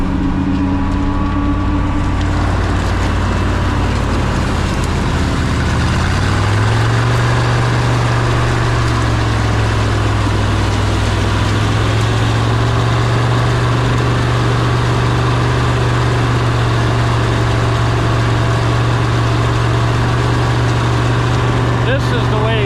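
A Snowcat tracked vehicle drives through deep mud, its engine a steady low droning rumble that rises in pitch and holds loud throughout, with people talking over it.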